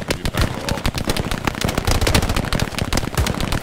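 Dense machine gun fire rattles through a military video game battle, rapid bursts overlapping with heavier distant thumps, loud and continuous with no pauses.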